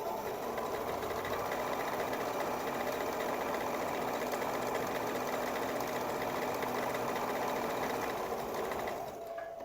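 A sewing machine stitches a dress sleeve, running at a steady, continuous hum for most of the stretch before stopping abruptly near the end, with no talking over it.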